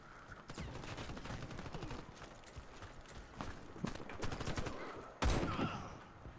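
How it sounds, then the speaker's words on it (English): Suppressed G36 rifle fire from an online Warface PC match comes in quick bursts and scattered single shots. The fire is mid-level and rapid, with a sharp loud report near the end. "It's just a G36 thing, whatever you call it."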